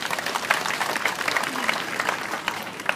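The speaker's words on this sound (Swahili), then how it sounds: "Jipigieni makofi kwa utulivu." A crowd at a 2013 campaign rally applauds, with dense, continuous clapping at a steady level and crowd noise mixed underneath.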